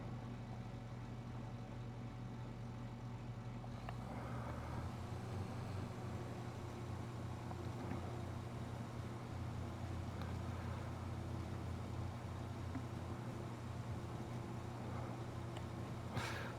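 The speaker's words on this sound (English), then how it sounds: "Tractor seems to be handling it pretty well." A tractor engine runs in Farming Simulator 25 as grass is cut on an island farm, a steady low idle-like drone that holds throughout, with a brief shift in tone near four seconds; no voices.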